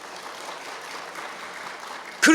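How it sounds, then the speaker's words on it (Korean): Church congregation clapping in encouragement for their elders, a soft, even patter of many hands in a sanctuary, ending with a sudden louder sound. "우리 그분들을 위해서 한번 여러분 격려 박수 한번 하시자고요"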